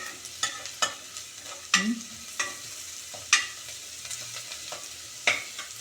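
Onion and garlic sautéing in a pan, with a soft, steady sizzle under repeated scraping stirs of a utensil against the pan at an uneven rhythm, close and fairly quiet.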